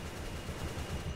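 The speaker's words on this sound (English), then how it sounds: "You can hear him shooting off in the background." Steady rattle of distant automatic gunfire in the Roblox game The Stalker: Reborn, dense and continuous for about a second with no talk over it.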